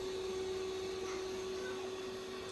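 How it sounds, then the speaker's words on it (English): An iRobot Roomba Plus 405 robot vacuum runs on carpet with its mop pads lifted, giving a steady, close motor whine with an even hum throughout and no pauses. "You can hear how the vacuum is still continually working while the mop is off."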